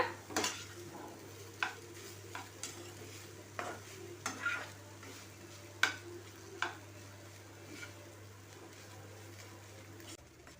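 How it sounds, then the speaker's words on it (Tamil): Boiled rice being stirred into sautéed carrots in a pan for Indian carrot rice, a soft repeated scraping and stirring with light sizzle, a faint steady hum underneath, no talk. "நான் ஆல்ரெடி பாயில் பண்ணி வச்சுருந்த ரைஸ் எடுத்துக்கிறேன். இதோட சேர்த்துக்கலாம். நல்லா மிக்ஸ் பண்ணி விட்டுக்கோங்க."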